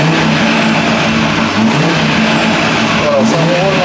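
Car engine and exhaust purring at idle, a steady low rumble heard close and loud, with a faint vacuum-cleaner-like whine, while a person talks over it.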